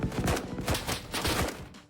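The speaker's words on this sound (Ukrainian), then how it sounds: "з розбитого будинка стріляють" Rapid bursts of video game gunfire in Blackhawk Rescue Mission 5 crack repeatedly over two seconds, loud and close, with a busy noisy background throughout.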